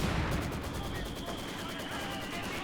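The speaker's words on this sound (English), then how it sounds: "Very early mortar, actually." Explosive mortar fire rumbles in Company of Heroes 2, a heavy blast at the start fading into a rumbling tail with a faint high whine, mixed with other battlefield noise.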